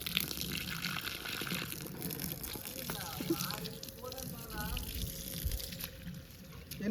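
Water gushes and splashes steadily from drip irrigation pipes in a coconut grove, a continuous close trickling flow with people talking over it.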